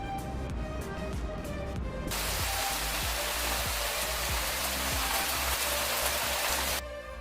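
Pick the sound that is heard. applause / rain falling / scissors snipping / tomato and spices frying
rain falling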